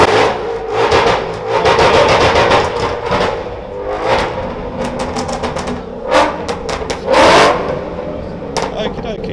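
A supercharged, modified Ford Mustang revs at the London Motor Show 2017, with loud repeated engine blips and a rising roar in short bursts, while people talk nearby in a busy hall.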